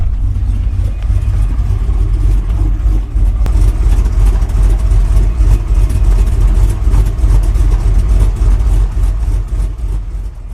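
A cammed 6.0 V8-swapped Chevrolet Silverado truck engine idles loudly up close with a deep, lopey, uneven rumble that pulses steadily throughout.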